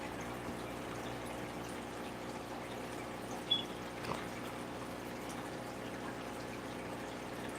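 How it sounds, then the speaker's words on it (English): Water runs continuously through an Aquion aquarium water changer, a steady even hiss and gurgle at moderate level with a couple of brief splashy blips midway. "Aquion water changer."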